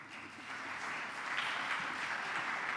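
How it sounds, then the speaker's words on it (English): Applause from a symposium and awards audience, a steady broadband patter of many hands that holds at moderate level for about three seconds with no talk over it. "applause for Dan"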